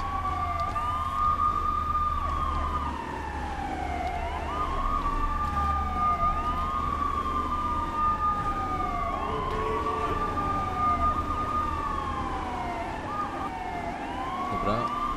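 A wailing police siren in the video game GTA III rises and falls in slow, regular sweeps, loud and continuous over a low engine rumble.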